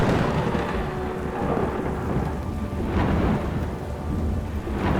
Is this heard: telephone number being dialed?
no